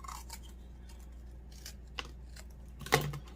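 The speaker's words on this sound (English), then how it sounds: "maybe take your smaller scissors" Small scissors trim the overhanging edges of cardboard in a quiet room, a few soft snips followed by one sharper, louder cut near the end.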